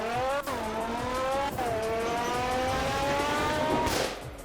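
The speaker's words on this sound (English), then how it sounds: "let's head over to the strip and the track and see how good this car is" A car in the Roblox game Fix It Up launches down a drag strip, its engine revving hard and climbing in pitch through quick gear shifts before easing off near the end, loud and close with no talking.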